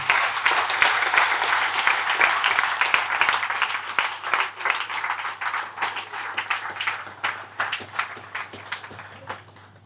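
A room at a monthly company meeting breaks into applause for a second-place winner, brisk clapping that starts full and thins gradually into scattered individual claps by the end.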